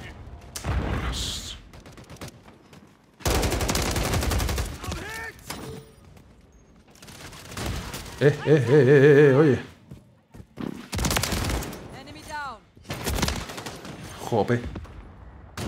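Shotgun bursts in the video game Modern Warfare III during a flag match on a small map, several loud clustered volleys separated by quiet gaps, with a player talking in between.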